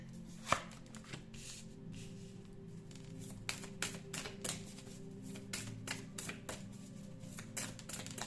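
Tarot cards are handled and shuffled close by, giving a run of soft, quick riffling and tapping bursts at an uneven rhythm, with a sharp tap near the start.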